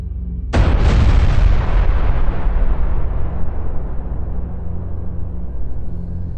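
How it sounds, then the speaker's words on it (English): A sudden, massive explosion bursts out, then a heavy rumbling roar slowly fades away over several seconds. "a deafening explosion rocks the area, unleashing a devastating shockwave that rips through everything in its path"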